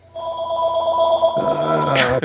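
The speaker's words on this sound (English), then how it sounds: "You get your phone call. Yeah. It's gonna ring like 5 times." A telephone rings loudly and close by in the film Battlefield Earth, a bright electronic bell tone that holds steady and then shifts pitch before cutting off.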